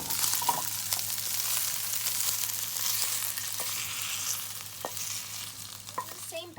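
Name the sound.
meat searing and sautéing in a pan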